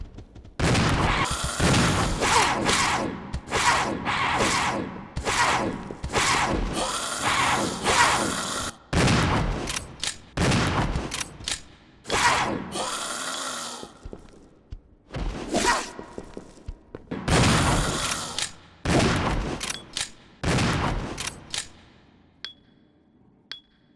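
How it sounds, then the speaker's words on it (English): Shotgun blasts in the video game Resident Evil Zero, fired repeatedly at a pack of enemies: a long series of loud booming shots with short pauses between them and creature noises mixed in, thinning to a few faint pings at the end. "now let's take this shotgun to that pack of eliminators"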